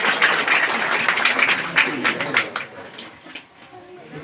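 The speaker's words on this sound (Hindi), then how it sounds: "एक बार जोरदार तालियों से स्वागत कीजिएगा।" A village audience in Madhubani, Bihar, claps loudly to welcome the village committee official at a school results gathering. The dense, close applause runs steadily, then thins out and fades over the last second or so.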